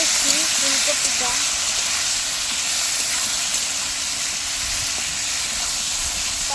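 Cauliflower fries in hot oil in a wok, giving a steady, dense sizzling hiss that stays even and fairly loud throughout, with no pauses.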